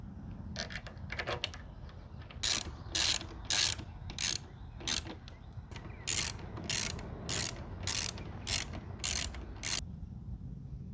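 Ratchet clicking as the front and rear bolts are tightened on a Honda Rebel 1100 motorcycle, about a dozen crisp, close clicks in a steady back-and-forth rhythm over a low background hum.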